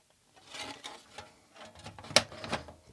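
The plastic lid of a Sega Mega Drive II console is fitted back on, a series of light plastic taps and rustles ending in a sharp snap or click, close and fairly quiet.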